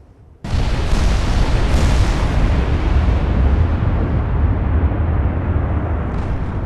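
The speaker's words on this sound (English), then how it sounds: "So fired a mixture of HE and AP there." Naval shells, HE and AP, exploding in Ultimate Admiral: Dreadnoughts, a sudden loud blast followed by a sustained deep roaring rumble that stays heavy and dense for several seconds without easing.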